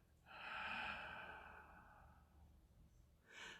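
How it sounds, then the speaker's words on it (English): A soft, drawn-out exhale with a breathy hiss, fading slowly over a few seconds, followed by a brief second breath at the end, close and quiet with no talking. "And just gently breathing out"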